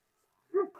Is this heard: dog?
yes